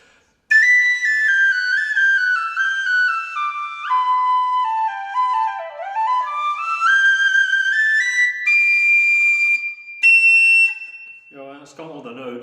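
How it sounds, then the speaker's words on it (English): A delicate tin whistle plays a clear, high melodic run of notes that dips down and climbs again, then holds a few long tones. It sounds close and bright, with no talking over it. "So this therefore is quite a delicate whistle."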